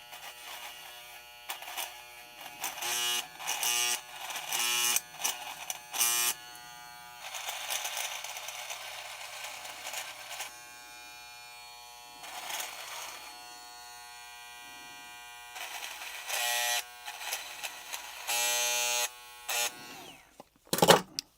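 VGR 880t hair trimmer buzzing as it runs through hair, a close, high electric whine in repeated bursts and longer stretches, with short pauses and a few clicks near the end.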